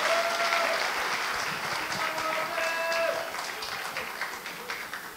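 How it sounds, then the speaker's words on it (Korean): Seminar audience applauding together, a steady wash of many hands clapping that holds at moderate level for about five seconds and eases slightly toward the end, with faint tonal sounds in the background. "하여튼 여러분, 이제 박수 한번 쳐주시기 바랍니다."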